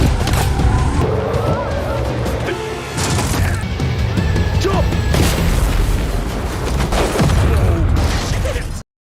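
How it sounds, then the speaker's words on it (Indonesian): A car blows up in a Yakuza attack in an action film scene, a loud boom and crashing debris amid dense, busy soundtrack noise that stays loud throughout before cutting off abruptly. "Serangan itu membuat mobil James meledak."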